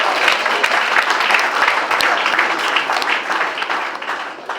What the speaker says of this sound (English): I deserve a clap.